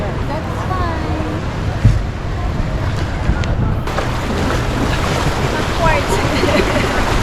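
Sea waves and wind wash steadily around a small boat off Boracay, a broad continuous surf roar with occasional slaps and wind buffeting on the microphone, close and loud throughout.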